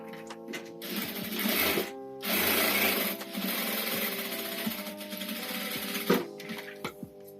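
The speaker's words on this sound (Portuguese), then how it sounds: "Eu vou passar uma costurinha aqui, ó, tá?" A sewing machine stitches patchwork fabric scraps, whirring in steady bursts with brief stops, close and fairly loud.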